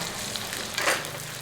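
Chili frying in pork fat in a Thai home kitchen, a steady soft sizzle with a brief louder crackling burst midway, fairly close and without talk.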